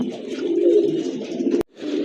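A pair of very large Shoking pigeons in a rare colour coo loudly and continuously at close range, with one short break near the end.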